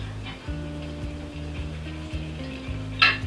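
Onion sautéing in a pan for sardine misua soup, a soft steady sizzle running under background music, with a brief brighter clatter near the end.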